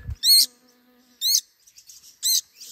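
A parent bird chirps in the deep Lao jungle: three sharp, bright bursts of high tweets spaced about a second apart. Soft insect-like buzzing fills the gaps, and no one speaks.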